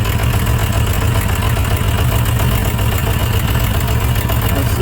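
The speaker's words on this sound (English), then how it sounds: "That cylinder is still not firing well." Motorcycle engine idling with a misfiring cylinder, a steady, close, low-pitched running drone that holds evenly throughout with no talk over it.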